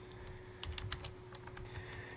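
Quiet, rapid tapping of keys as code is typed on a computer keyboard, a short irregular burst of clicks with no speech.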